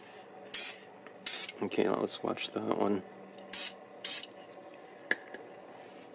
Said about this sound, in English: we have these sprays, and I'm always recommending you kind of spray the scenes anyway.